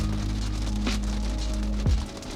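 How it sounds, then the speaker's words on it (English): Hail striking a Tesla Model Y at a camping spot makes a dense, steady patter like heavy rain on the car's surface, with a low hum running underneath and one brief louder knock near the end. "look at these chunks of ice, hail falling down, it's crazy."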